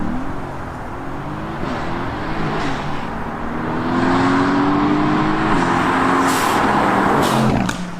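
A Renntech-tuned Mercedes-AMG GT S with 625 brake horsepower accelerates hard on a British B road, its engine note climbing through gears close up, growing louder midway with shift breaks and brief sharp pops near the end.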